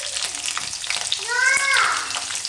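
Green chillies dropped into hot oil in a pan for Gujarati orange rice, with a steady crackling sizzle and a brief bright squeak of the spoon against the pan.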